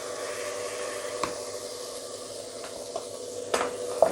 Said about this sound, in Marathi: भाज्या आपल्याला व्यवस्थित परतून घ्यायच्या आहेत।